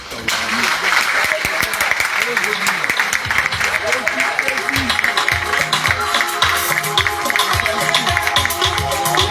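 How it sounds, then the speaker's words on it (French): Steady applause from a crowd at a presidential handover ceremony fills the whole stretch, dense and continuous with mixed crowd noise and no pauses. "Applaudissements"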